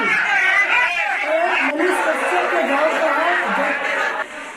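Large crowd gathered outside a doorway, a loud, close babble of many overlapping voices with scattered laughter, continuous throughout.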